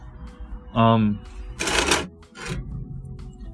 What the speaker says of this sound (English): I think I can get away with pruning it back further